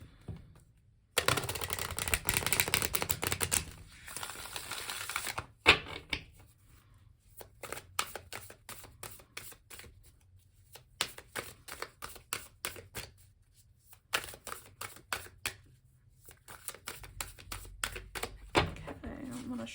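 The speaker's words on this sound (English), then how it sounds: "let's shuffle once more" Rapid papery riffles and flutters of a deck of oracle cards being shuffled in several bursts, with short pauses and a voice speaking between them.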